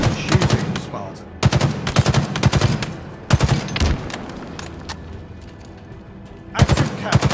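Rapid bursts of automatic gunfire ring out in Halo Infinite, several loud volleys separated by short pauses, with a brief in-game voice line between them.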